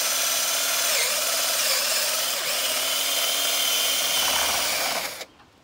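A power drill drives a bolt into a green tree trunk while a bear-proof deer feeder is being hung. The drill gives a loud, steady whine that runs continuously for about five seconds, then cuts off abruptly, with no talking.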